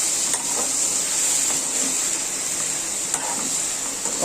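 Brinjal curry with ground masala powder is stirred in a frying pan, a steady hiss of sizzling oil under occasional soft scrapes of the spoon, close and continuous.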